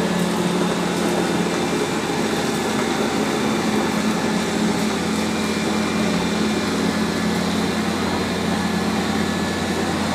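A Roborock Q5 Pro robot vacuum runs across the floor with a steady, close, continuous whirring hum and motor whine, with no voices.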